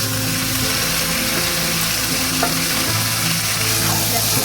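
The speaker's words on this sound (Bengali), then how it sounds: "চিকেনগুলো অ্যাড করে ভালো করে কষাতে হবে আর কি।" Chicken frying hard with spices in a pan. A loud, dense sizzle runs constantly and steadily throughout, with no pauses and a faint low hum underneath.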